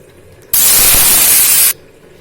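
Dried red chili hits hot mustard oil in a pan as mango pickle is being made, bursting into a loud, bright sizzle that holds for about a second before cutting off abruptly.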